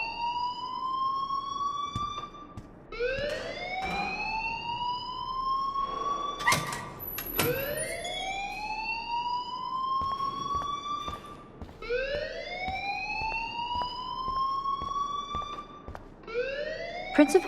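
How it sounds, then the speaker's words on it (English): Rising, wailing electronic alarm repeating in steady sweeps at a school in the video game Life is Strange, moderately loud with faint background sounds between cycles. "please turn off that alarm since that's your job"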